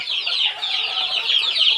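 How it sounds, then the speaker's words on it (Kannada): Native country chickens (nati koli) on a farm fill the air with a dense, overlapping chorus of high-pitched clucks and chirps, steady and fairly close, with no talking. "ನಾನು ಒರಿಜಿನಲ್ ನಾಟಿ ಕೋಳಿನೇ ಯಾವ ಥರ ಇದಾವೆ ನಮ್ಮ ಕೋಳಿಗಳು ಅಂತ ತೋರಿಸ್ತೀನಿ"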